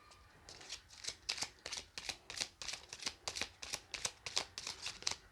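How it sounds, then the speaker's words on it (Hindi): Tarot cards are shuffled by hand in quick, regular riffling bursts, about three per second, close and fairly quiet with a faint hiss behind, no speech. "मैं एक बार और अच्छे से शफल करती हूँ."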